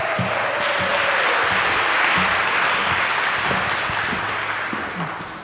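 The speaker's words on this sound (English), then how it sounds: "One more round of applause for Rashad." Sustained audience applause following a talk on mass incarceration and detention, steady dense clapping from a crowd indoors for several seconds, tapering slightly at the end.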